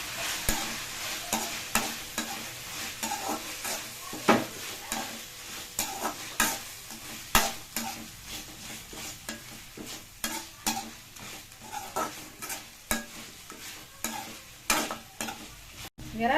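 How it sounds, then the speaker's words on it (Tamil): Prawns sautéing in a pan with soya greens (dill) for a prawn thokku, a steady close sizzle broken by frequent scraping spatula strokes and light metallic taps against the pan. "இறால் போட்டு ஒரு 2 நிமிஷம் வதக்கியாச்சு."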